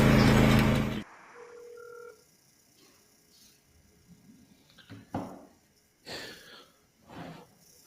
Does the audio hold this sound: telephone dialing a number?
yes